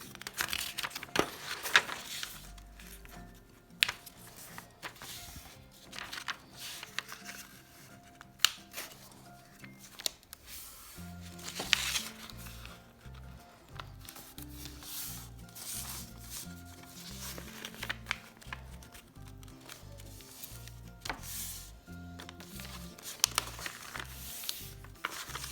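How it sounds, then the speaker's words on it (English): A sheet of paper is folded into a paper airplane, with soft, intermittent rubbing, creasing and crinkling close by against a quiet background. "you fold the paper in half lengthwise"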